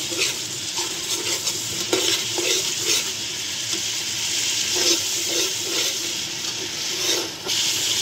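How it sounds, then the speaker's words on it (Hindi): Garlic and ginger paste with a little water sizzles and fries in a pan while being stirred, a steady close hiss broken by occasional scraping from the spoon. "लहसुन की मैं बुनाई कर रही हूँ"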